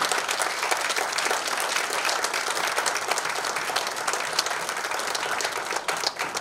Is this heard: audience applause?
yes